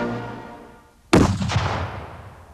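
A single sharp rifle crack from a Whitworth rifle fired by Queen Victoria at Bisley, a loud, abrupt report with a short rolling decay, following a quieter steady background.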